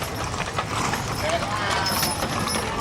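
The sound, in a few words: horses hooves clip-clopping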